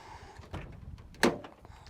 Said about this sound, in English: So I'll pop the door open as well this side.